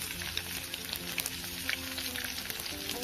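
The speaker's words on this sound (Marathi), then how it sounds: "ऑइल गरम झाल्यानंतर त्यामध्ये आपल्याला 2 ते 3 लसूण" Two or three garlic cloves fry in hot oil for egg rice, giving a soft, close, steady sizzle with small crackling pops and no talk.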